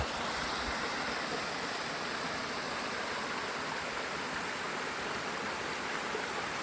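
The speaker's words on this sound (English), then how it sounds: "Beautiful river and waterfall." River and waterfall in the Algonquin Park backcountry, a steady, dense rushing roar of flowing water filling the whole stretch evenly, close and constant with no voices.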